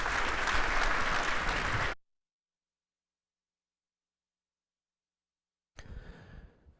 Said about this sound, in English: Let's give Kenji, Antero, and Rudy another round of applause